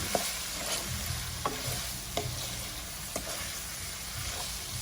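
Ground meat and sliced hot dog frying in a pan under a steady sizzle, with occasional sharp clicks of a utensil against the pan as it stirs, close and with no speech.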